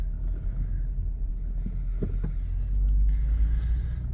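A 2016 GMC Acadia Denali SUV with a failing power steering pump drives along, giving a steady low engine and road rumble with a few brief knocks and a slight rise near the end, and no voices.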